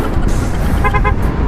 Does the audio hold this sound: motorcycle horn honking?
yes